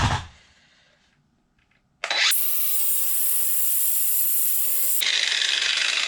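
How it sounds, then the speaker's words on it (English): A Craftsman cordless angle grinder spins up with a sharp burst and cuts for about three seconds in a loud, steady high whine that holds a droning tone, then stops abruptly. "I'm probably just going to do the angle grinder since I got it right here."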